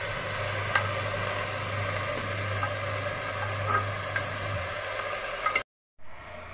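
Mixed vegetables with chopped capsicum and peas sizzle softly in a pan while being gently stirred, with scattered light clicks and scrapes over a low hum, then a brief dropout before the sizzle resumes.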